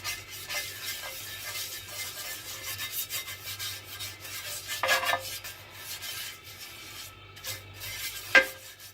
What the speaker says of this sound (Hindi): ऑयल से सारे पैन के ऊपर ब्रश कर लेते हैं